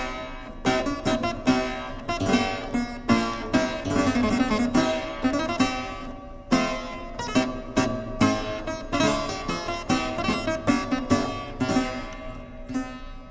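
Historical keyboard instrument with shared strings and a freely resonating soundboard, played as a continuous run of plucked-sounding notes and chords with a bright, jangly attack, close and alone throughout.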